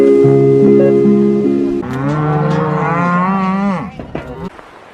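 Cattle on a ranch moo loudly and close, a long drawn-out bellow following a tonal stretch, then fading into quieter background.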